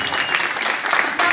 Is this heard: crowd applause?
yes